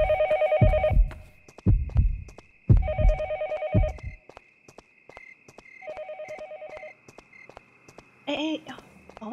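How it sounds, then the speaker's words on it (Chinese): A heavy heartbeat thuds steadily in the horror game Yomawari: Night Alone, low paired pulses repeating throughout, interrupted by several loud bursts of a ringing telephone and a brief chime at the end. "表世界是不停的心跳声"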